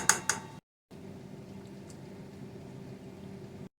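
Steak pizzaiola sauce with minced garlic simmers in a pan, giving a faint, steady low bubbling hiss after a couple of brief clinks at the start.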